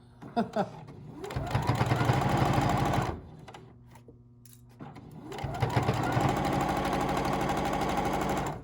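A sewing machine stitching a small fabric wallet runs in two steady, loud bursts of rapid mechanical chatter, with a short pause between them filled by low motor hum.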